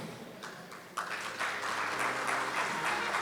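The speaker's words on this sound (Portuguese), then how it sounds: "Vamos recebê-lo com uma salva de palmas." Applause starts softly, then swells into a fuller round of clapping from a crowd in a room.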